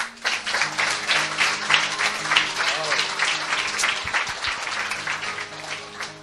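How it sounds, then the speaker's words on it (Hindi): A church congregation applauds loudly and steadily for several seconds at a sermon, a dense wash of many hands clapping, with a faint voice or sustained tone running underneath. "पहले इस वचन के लिए ताली बजाएं।"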